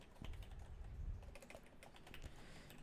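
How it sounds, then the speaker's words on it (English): Someone types on a computer keyboard while writing Java code, producing quick, quiet, uneven key clacks close to the microphone with no talking. "Ooh, typing is a struggle today."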